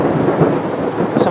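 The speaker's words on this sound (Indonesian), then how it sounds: "hujan itu deras" Heavy rain pours down in a dense, continuous roar, loud and close, with a deep rumbling undertone throughout the brief stretch.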